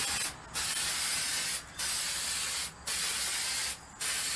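Spray paint hisses from an aerosol can, close and loud, in four sustained bursts of about a second each, separated by short pauses.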